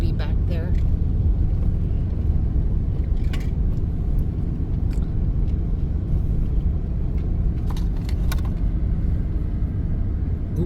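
RV driving over a bumpy road near Williams, Arizona, heard from inside as a loud continuous rumble with rattles and thumps from the bumps, under speech.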